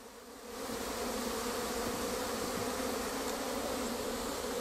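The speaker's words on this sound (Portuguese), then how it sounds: "Repleto de abelhas, repleto de filhotes. Muita abelha." A dense swarm of honeybees buzzing steadily around a comb frame lifted from a bait-box hive, the loud continuous hum swelling in after a brief quieter start and holding close and even.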